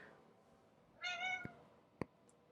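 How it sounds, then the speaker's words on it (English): A pet cat gives a single clear, drawn-out meow lasting about half a second, followed by a couple of short knocks, in a quiet room with no talking. "He's my kitty."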